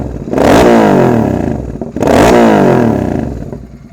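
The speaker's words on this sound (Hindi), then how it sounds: "इसमें लगा हुआ है AEW01 का एग्जॉस्ट, ये भी कोड 6 ट्यून्ड है।" A Royal Enfield GT 650 motorcycle with an AEW01 full-system exhaust and a Code 6 tune revs twice in quick succession, each loud throttle blip rising sharply and then falling away, close up and with no talk.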